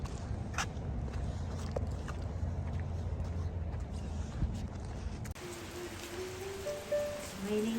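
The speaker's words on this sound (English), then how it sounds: "It's raining hard." Hard rain falls steadily on an outdoor city nature trail under dark clouds, a constant dense hiss with low rumble, shifting partway through to a slightly brighter wash with a few faint tonal squeaks; no talk.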